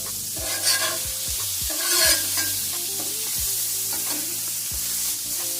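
Thick-cut bacon cooking on a hot Blackstone griddle, giving a constant close hiss with a tonal hum running underneath, and no speech.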